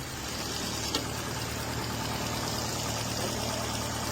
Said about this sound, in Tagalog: Pakit na ng tunog ng engine ngayon kasi isang taon yata walang change oil to